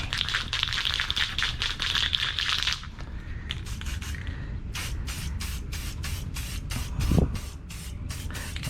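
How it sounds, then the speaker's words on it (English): Short hissing bursts of spray paint land on a custom spoon wheel, first a long continuous spray, then a row of quick evenly spaced blasts, close and fairly loud with no talking. "we'll get a little spray on this right now"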